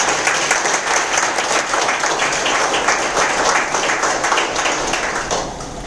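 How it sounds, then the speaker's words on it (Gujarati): An audience bursts into loud, sustained applause, dense clapping filling the room without pause and tapering slightly at the very end. "એકવાર જોરદાર તાળી."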